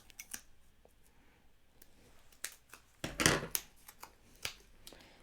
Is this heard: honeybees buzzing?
no